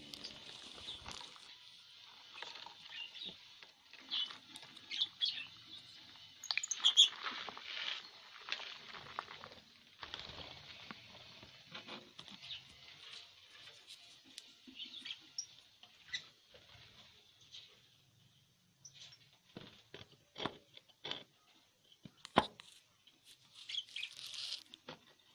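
A pet lovebird nibbles and pecks at water spinach, giving faint, rapid crunching and tearing bits with small squeaky scrapes in irregular bursts, close by and quiet.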